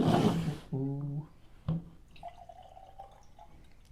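Glenfiddich 14 whiskey poured from a bottle into a glass at a tasting, a short liquid glug and splash followed by softer trickles and drips, close and fairly quiet.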